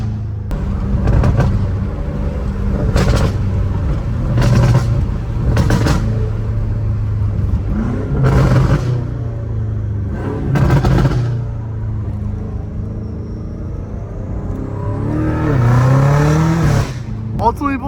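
A catless BMW M5 Competition rumbles loudly on a street, its deep exhaust burbling steadily with repeated sharp revs and pops, while someone talks over it now and then.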